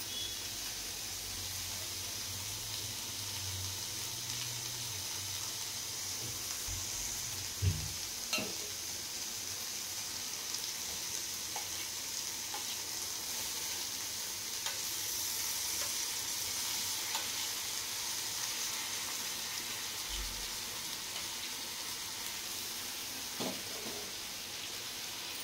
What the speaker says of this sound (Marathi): आपल्याला दूध घालायचं आहे।